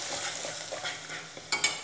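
Turmeric and red chili powder hit hot oil with a steady soft sizzle and light stirring scrapes, brief louder clinks near the end, as spices fry for restaurant-style dum aloo.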